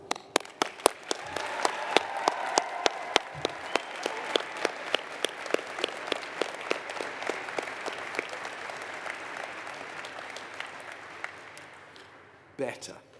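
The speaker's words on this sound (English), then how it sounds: "let's give our family and friends another round of applause, but let's make some noise this time." Graduation audience in a vast cathedral gives a long round of applause, with crisp separate claps ringing through the reverberant space; the clapping thins and fades toward the end before a brief louder burst.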